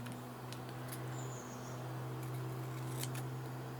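Scissors cut card for card making, a few quiet crisp snips spaced apart over a faint steady hum, with no talking.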